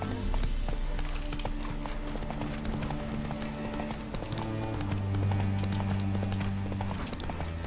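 Hooves of the horse in The Witcher 3 pound out a steady galloping clip-clop over game music and ambience, continuous and moderately loud throughout.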